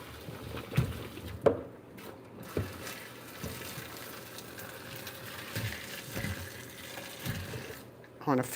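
Water pours from a pot into a colander in a home kitchen while cooking yam, a steady splashing wash with a few clunks of the pot, fairly close.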